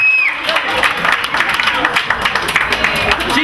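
Wedding guests at a Sofia wedding applauding, a dense burst of clapping from a crowd in a hall, loud and close, with voices mixed in.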